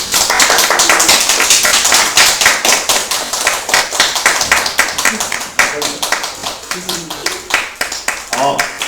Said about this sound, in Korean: 진심으로 큰 박수로 환영합니다